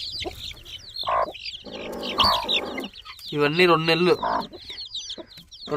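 Chickens cluck and squawk in a coop on a farm holding chicks and two-month-old birds, a busy close flock chorus with a louder drawn-out call midway, while someone speaks briefly over it.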